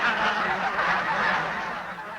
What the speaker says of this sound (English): These netted Canada geese will help in the development of improved waterfowl management